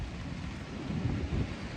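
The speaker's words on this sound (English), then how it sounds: "It's raining" Hard rain falling on Chesil Beach with wind buffeting the microphone, a continuous rough low rumble and hiss that swells slightly in the second half.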